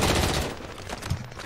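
Rapid gunfire in Call of Duty: Warzone, a dense fusillade of shots that is loudest at the start and then continues somewhat quieter, with no speech.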